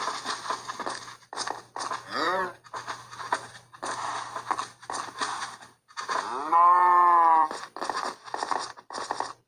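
Several cows moo in a video game underground cattle farm, with one long, loud low call near the end, over a steady low hum and some background chatter.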